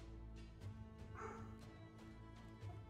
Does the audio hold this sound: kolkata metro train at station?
no